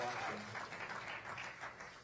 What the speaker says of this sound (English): And yeah, you can clap.